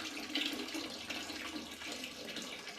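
Muriatic acid pours into a toilet bowl to clean hard water stains, a steady close liquid trickle and splash into water, fairly quiet and with no voices over it.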